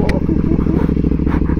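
A motorcycle engine starts and idles with a loud, throbbing, rapid low pulse close by, a faint voice briefly over it.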